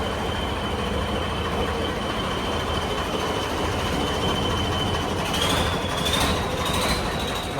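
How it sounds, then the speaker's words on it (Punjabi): Tractors haul trailers out of a farm yard, producing a continuous loud engine rumble with rattling and clanking metal and a thin high squeal toward the end. "ਕੱਢਤੇ ਆ ਟਰੈਕਟਰ ਟਰੈਲੀਆਂ ਬਾਹਰ"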